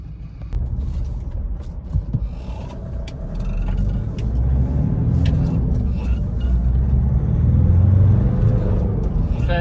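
Nissan Navara pickup with about 77,000 miles, engine and airbag warning lights on, heard from inside while driving: a steady low engine and road rumble that builds gradually, with a few faint clicks and knocks over it.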